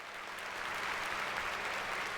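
Steady applause from a crowd in the video game We Live in a Society, a dense, continuous patter of many hands clapping at even loudness throughout, with no voices.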